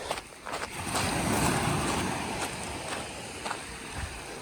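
Waves washing onto a beach on the Yorkshire coast, a steady broad surf roar with wind buffeting the microphone, fairly loud and close, no talking.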